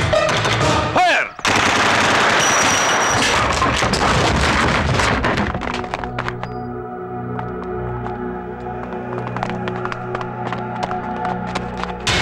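Machine gun fire in a Tamil action film scene, with a dense, loud burst of rapid shots over the first few seconds, then lighter scattered cracks over a rain-like ambient wash.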